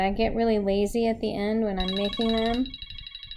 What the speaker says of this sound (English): excuse my phone going off there